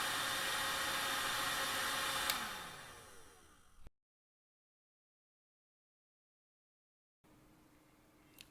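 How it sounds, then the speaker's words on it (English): A heat gun blows steadily while shrinking heat shrink tubing over solder joints on wiring for a drone transmitter, a loud airy hiss that winds down and cuts off, then a faint hum after a silent gap. "use the heat gun to shrink all the tubing so that you cover the solder"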